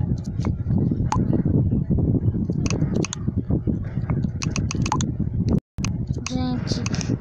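A girl types quickly on a computer keyboard, a run of light, irregular clicks and taps heard faintly beneath steady talking.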